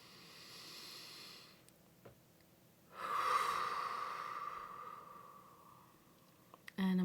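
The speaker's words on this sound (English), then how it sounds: "I'm gonna close my eyes and take a deep breath" A person takes a slow deep breath, a soft close inhale swelling for a couple of seconds after a quieter earlier breath, then easing away in an otherwise quiet room.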